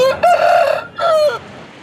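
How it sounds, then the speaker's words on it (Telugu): A large Tamil Nadu-bred rooster crows twice, loud and close, at a Sunday hen market in Piler. The two strong calls come in quick succession with a short gap between them, and no one talks. "తమిళనాడులో మంచి సైజు పుంజు."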